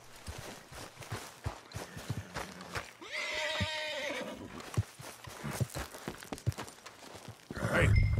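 A horse in Red Dead Redemption 2 gives a drawn-out whinny partway through, set against steady clip-clop hoofbeats and footsteps, with a low rumble swelling near the end.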